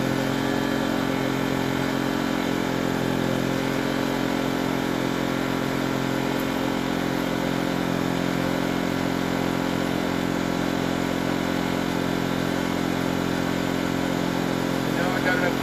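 An Enkeeo 2300 watt portable inverter generator runs steadily with a little choke still on as it warms up, a loud, unbroken engine drone close to the microphone.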